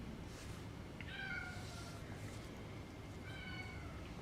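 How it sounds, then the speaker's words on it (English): A cat meows twice, drawn-out calls about two seconds apart, over a steady low background hum. "Can you hear my cat?"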